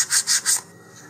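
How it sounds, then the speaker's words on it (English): Sandpaper rubbing along the leading edge of a basswood fin on a Rocketarium Alamo model rocket: three close, even back-and-forth strokes, then the sanding stops and only quiet room tone remains. "since this is basswood, it's going to take a little more sanding"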